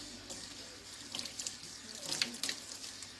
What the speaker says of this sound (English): I'm just going to rinse it out and it's going to go away